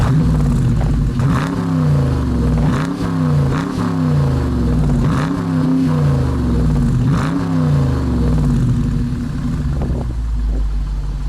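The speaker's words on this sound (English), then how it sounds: "the Dodge Challenger RT Plus also features a stainless steel exhaust system." A 2017 Dodge Challenger R/T with a stainless steel exhaust revs repeatedly, each deep loud blip rising and falling over a steady rumbling idle, close up with no talking.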